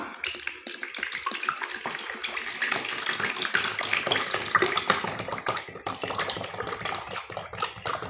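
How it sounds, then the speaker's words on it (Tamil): Two litres of coconut oil pour into a pot in a steady, gushing stream that runs unbroken for several seconds at moderate volume. "இப்போ நம்ம தேங்காய் 2 லிட்டர் வந்து ஊற்றிருக்கோம்"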